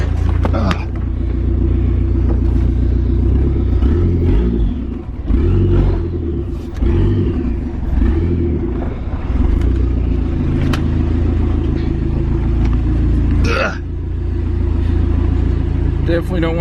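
Dodge Caravan minivan with a swapped-in SRT4 engine idling and running steadily indoors near a garage door, a loud continuous low rumble with a brief rev near the end, with people talking over it.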